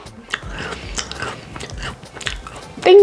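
Someone bites and chews a dry, crunchy almond cookie up close, with repeated soft crunches and mouth sounds over a few seconds.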